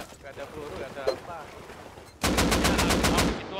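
Gunfire in the video game Rust: after a stretch of voices chatting, a loud rapid automatic burst of about ten shots rings out close and dominates the rest of the moment.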